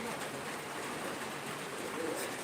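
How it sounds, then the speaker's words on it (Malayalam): Heavy rain pouring steadily over open paddy fields and a river, a dense uniform wash of noise without pause, fairly faint and distant. "ഇവിടെ ഹെവി മഴയുണ്ട്"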